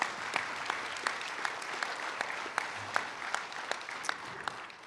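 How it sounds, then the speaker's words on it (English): Steady applause from a crowd, dense clapping throughout with a few sharper individual claps standing out, fairly distant and even in loudness. "Give yourselves a round of applause"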